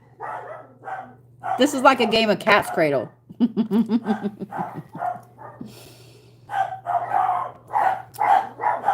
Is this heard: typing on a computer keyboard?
no